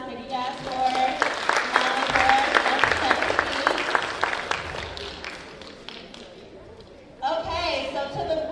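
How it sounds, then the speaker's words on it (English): Audience at a meeting clapping in a close, lively burst that tapers off over several seconds, with a few cheers and voices, followed by a person talking. "So, give them a round of applause."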